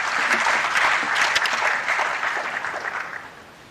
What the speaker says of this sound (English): So let's give us a big round of applause.